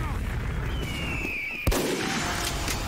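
A charged critical sniper shot in Team Fortress 2 cracks once, sudden and loud, amid steady battle noise and a rising whistle-like tone.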